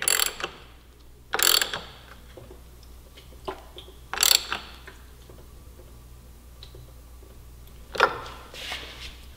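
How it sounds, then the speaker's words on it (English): A ratcheting wrench tightening an R&G frame slider bolt on a 2017 Yamaha R6 sportbike: several close bursts of rapid ratchet clicking, with softer ticks and mechanical handling noises between them. "hold it while you torque it down so it doesn't rotate"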